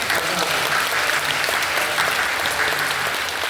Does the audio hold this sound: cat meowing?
no